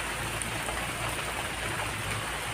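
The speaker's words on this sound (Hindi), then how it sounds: "बारिश हो रही है, पता नहीं आपको दिख रही है कि नहीं दिख रही है।" Rain falls steadily outside a home, producing an even, constant broadband hiss at moderate loudness with no speech over it.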